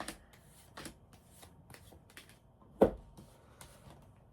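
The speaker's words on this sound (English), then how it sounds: "I'm going to do one more shuffle here" Tarot cards being shuffled by hand during a reading, quiet riffling bursts and soft slaps spaced irregularly, with one sharper snap of the deck partway through.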